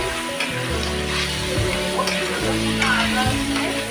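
Ginger garlic paste frying in a pan of jackfruit curry gives a loud, continuous crackling sizzle, with stirring scrapes throughout.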